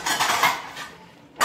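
Dishes and utensils being washed in a home kitchen: close, continuous splashy scrubbing and clattering that eases off, then a sudden sharp burst of clinking at the end, with no speech.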